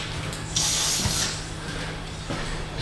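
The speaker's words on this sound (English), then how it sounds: "we'll spray up inside the body holes here where the" Aerosol lubricant sprayed up inside the body holes of a rotted Subaru subframe, a loud hissing burst of about a second, then another short spray later over a steady low hum in a garage.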